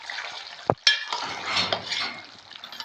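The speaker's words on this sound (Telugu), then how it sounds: "జస్ట్ కలుపుతాన్నా" Mutton curry being stirred in a pot, with a clang of a spoon against metal, then continuous scraping and soft sizzling from close by.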